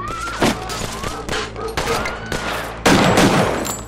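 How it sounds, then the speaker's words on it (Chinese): A series of loud gunshots fired out of a window in the TV series Fargo, several heavy reports spaced irregularly with a dense final volley, over background noise and faint voices. "马沃朝窗外的行人放了几枪，当然没打中人，动静很大"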